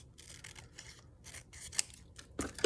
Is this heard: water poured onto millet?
no